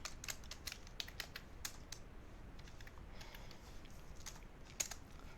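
Quiet keystrokes on a computer keyboard come in short irregular bursts with brief pauses, light clicking taps with one slightly sharper press near the end, against a faint steady room hiss and no voices.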